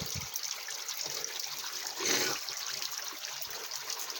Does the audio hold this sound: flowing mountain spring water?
yes